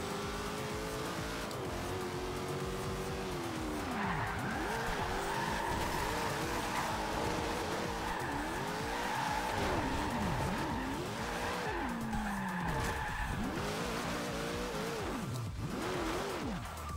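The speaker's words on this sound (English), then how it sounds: "Hey Zach, I'll be back to drifting in a little bit here." A rear-wheel-drive car drifts at a car meet, engine revving and rising and falling while the tires squeal and howl in long repeated sweeps, loud and close throughout.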